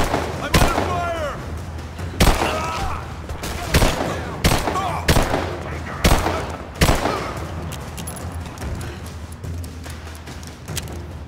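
Repeated heavy gunfire bursts in the Rise of the Tomb Raider video game, roughly every second or two, with loud echoing blasts over a low steady background hum and a few voices.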